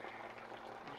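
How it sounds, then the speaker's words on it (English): Water gurgling out of a homemade chicken waterer in a backyard coop, a soft continuous bubbling trickle, quiet and close. "Gurgling out of there."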